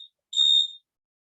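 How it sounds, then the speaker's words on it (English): A building fire alarm sounds one short, shrill electronic beep, loud and close, preceded by a brief faint chirp and followed by silence. "a fire alarm just went off."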